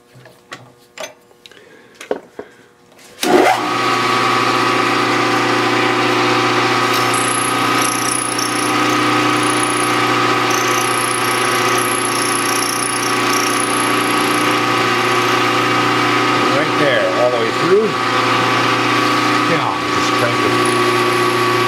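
A Mini Hog milling machine starting up and cutting, with a few handling knocks first, then a loud, steady motor drone and whine that stays even to the end.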